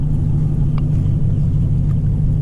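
Cammed Chevrolet Camaro engine rumbling steadily at idle, a loud, deep, continuous low growl close by with no talk over it, amid other cars at an outdoor gathering.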